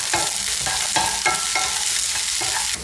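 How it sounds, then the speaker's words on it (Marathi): Carrots and corn kernels stir-frying in oil, a loud close sizzle with repeated rhythmic scrapes and tosses of a spatula every half second or so, no voices. "गाजर आणि मक्याचे दाणे 2 ते 3 मिनिटं आपण परतून घेऊया"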